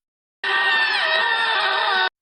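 One person lets out a single loud, sustained scream lasting nearly two seconds, close and steady from start to finish, with silence before it and nothing else around it.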